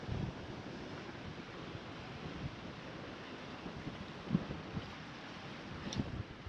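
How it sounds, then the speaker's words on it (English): Waves and wind noise surround a small sailboat at sea on a singlehanded Atlantic crossing from Bermuda to the Azores, a steady rushing wash with a few louder thumps of water against the hull, no talk. "That is a steep looking wave."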